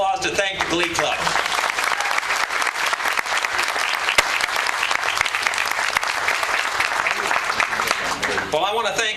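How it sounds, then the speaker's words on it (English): An audience applauds to thank a glee club at a groundbreaking ceremony with speeches: dense, sustained clapping from a large crowd fills the whole stretch, steady and loud, fading out with a voice at the very end. "let's give another round of applause to thank the Glee Club"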